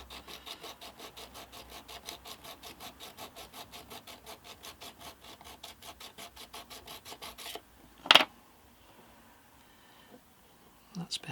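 A knife edge drawn repeatedly across a 1,000 grit sharpening plate to remove the burr, making quiet, rapid rhythmic rasping strokes, followed by a sharp clack and a brief scrape after the strokes stop.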